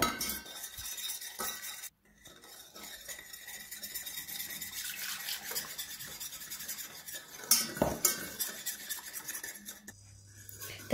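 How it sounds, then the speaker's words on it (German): Spoon scraping and rubbing against a bowl while milk is gradually stirred into vanilla pudding mixture until smooth, a steady close scraping with occasional clinks. "Und da gießen wir dann 150 Milliliter Milch dazu, so etappenweise, und rühren uns das zuerst richtig schön glatt"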